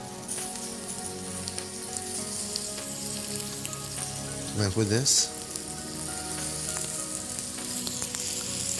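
Zucchini sizzling as it fries in a pan, a steady, close hiss running throughout, with a brief voice speaking over it midway.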